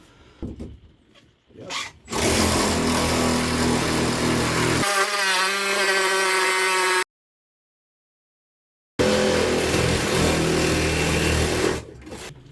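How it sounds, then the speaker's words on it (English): A reciprocating saw with a long blade cuts through plywood inside a self-build Iveco Daily campervan, a loud steady buzzing whine running for several seconds, breaking off briefly, then resuming at full force. "get the recip saw, nice long blade, because they bend and conform"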